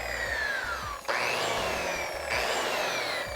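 A power polisher whines steadily as it is run flat across a surfboard, its pitch dipping and rising slightly as the pad shifts along the board, close and continuous with no talk.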